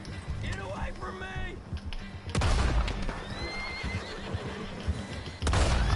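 A horse in the video game Red Dead Redemption 2 neighs and whinnies in rising, wavering cries, joined by hoof clatter and sharp bursts of action, while a voice speaks at points throughout.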